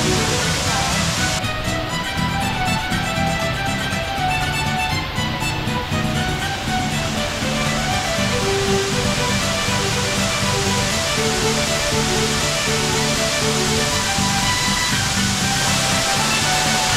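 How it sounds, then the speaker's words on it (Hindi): A waterfall beside the Akhadeshwar Mahadev temple in the mountains of South Gujarat roars as a dense, constant rush of falling water, loud and close throughout, with faint background sounds mixed in. "अखड़ेश्वर महादेव मंदिर के पास हम पहुंचे हैं, और ये है यहाँ का फॉल्स।"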